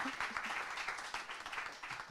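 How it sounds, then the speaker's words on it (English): An audience applauds a performer named Mo Samuels at a songwriters' circle, a brief burst of dense clapping from a crowd at close range. "can we give a round of applause for Mo Samuels?"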